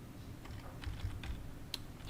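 Someone types on a computer keyboard in a short, quiet burst of key clicks. The taps are soft and sparse, with one sharper stroke near the end, over a low hum.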